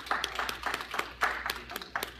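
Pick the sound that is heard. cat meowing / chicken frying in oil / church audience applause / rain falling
church audience applause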